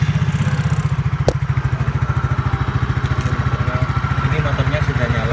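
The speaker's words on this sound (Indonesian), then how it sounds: "Ini motornya sudah nyala." A motorcycle engine idles close by with a steady, loud chugging pulse, broken by a sharp metallic click early on, during a jump-start of a car battery.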